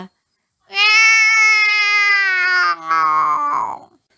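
A long, drawn-out cat meow, loud and close, wavering in pitch before breaking into a shorter trailing cry.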